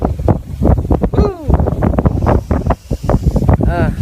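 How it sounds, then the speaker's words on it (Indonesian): Strong wind gusts buffet the microphone at a Sundanese stilt house amid rice fields, blowing loudly and continuously under a man's speech. "Tuh anginnya kerasa sahabat ya."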